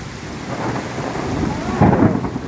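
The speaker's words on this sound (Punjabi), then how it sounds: "ਮੀਂਹ ਨੇ ਗੋਲੇ ਪਏ ਆ" Rain and hail batter down on a dairy farm in a dense, loud wash, with a deep rumble of thunder swelling near the end.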